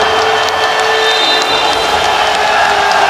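A basketball crowd at the Southern Stadium in Hong Kong cheers and applauds after a layup in a quarterfinal game, a broad, steady roar held throughout.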